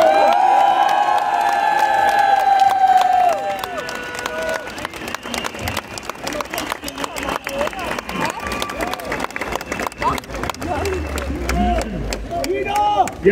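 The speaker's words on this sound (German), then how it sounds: "Begrüßen Sie mit mir, mit einem großen Applaus" A large crowd at an AfD political rally in Bautzen claps, cheers and whoops loudly while a speaker talks over the noise, with dense rhythmic clapping continuing to the end.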